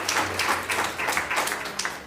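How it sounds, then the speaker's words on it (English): Audience applause at a youth court graduation ceremony held by Putnam County Government, New York: a steady wash of many hands clapping in a hall, moderately loud, with a faint low hum beneath. "Please hold your applause"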